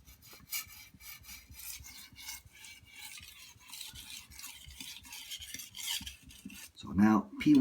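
A knife drawn over a sharpening stone with shifting light and firmer pressure gives steady, close scraping strokes in a continuous run. A brief ringing, tonal scrape closes the passage.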